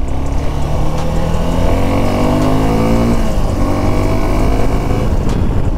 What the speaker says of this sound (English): It has a dual barrel exhaust similar to Dominar. The sound is good for a single cylinder.